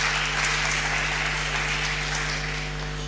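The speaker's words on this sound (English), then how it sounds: "I would like you all to clap for yourselves" Students at a school English speech competition clap for themselves, a dense, steady burst of indoor applause from a group that carries through the whole moment with a constant low hum underneath.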